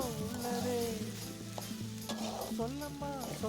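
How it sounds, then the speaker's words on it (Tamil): Mango rice stirred in oil in a pan, a close sizzle under repeated scraping and clinking of a spoon turning the rice, fairly quiet and with nobody speaking. "அந்த அளவுக்கு நல்லா கிளறி விடுங்க"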